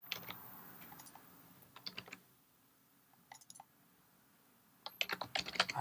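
Bursts of clicky keystrokes on a computer keyboard, quiet and close, with pauses between short runs of typing and a denser flurry near the end.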